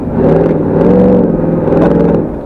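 A deep, steady engine rumble from a Chevrolet Tahoe SUV, loud and close, holding a constant drone with slight swells throughout.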